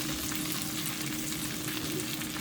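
Potatoes and onions fry steadily in a pan, a dense continuous sizzle and crackle that stays loud and even throughout with no talking.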